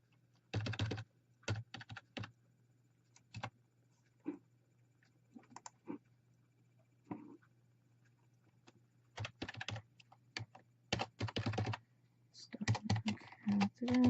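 Bursts of quick keystrokes on a computer keyboard, typed in short clusters separated by pauses, close and fairly quiet over a low steady hum.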